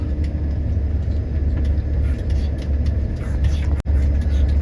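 Farm vehicles heading out to the fields during the sunflower harvest, a steady close engine rumble with road noise throughout and one brief sharp dropout near the end.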